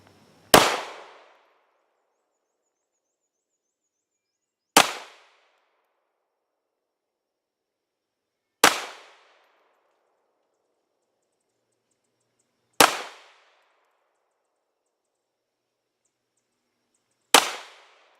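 Springfield Armory XD Mod 2 pistol fired five single shots, sharp loud cracks spaced about four seconds apart with short decays and near silence between them.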